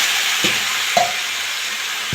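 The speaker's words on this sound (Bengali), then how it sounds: "এবার আমি বাঁধাকপিটা দিয়ে দেবো।" Cabbage tossed into a hot pan of spiced potatoes, a continuous bright sizzle with two short scrapes of stirring, close by and without talk.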